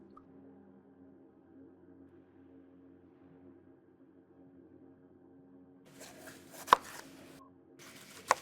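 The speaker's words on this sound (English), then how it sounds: "chop up about 10 to 12 dried chilies and place in a bowl" Dried chilies for harissa are chopped on a board: two sharp, close knife strikes land near the end after a quiet stretch of faint room tone.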